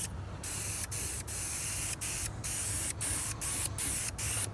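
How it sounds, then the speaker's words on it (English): Spray paint goes onto a supercharger bracket for a supercharged AWD EE2 build in a series of close, hissing bursts of varying length, broken by short pauses for a light blending coat. "I'm gonna try to blend it. I'm not gonna spray it all the way."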